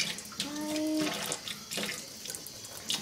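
Water runs steadily from a bathtub tap, a continuous hissing splash filling about three seconds at moderate level, with no voices over it.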